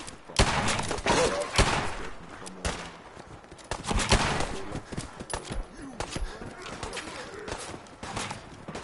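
Gunfire in a Vice City-style shooter game, with bursts of shots and thumps recurring through the stretch, loud and close, mixed with game voices and other in-game noise.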